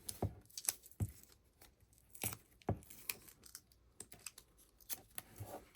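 Double-sided tape being laid along a fabric pack, heard as a few sharp, close peeling and tapping clicks spaced irregularly with quiet gaps between.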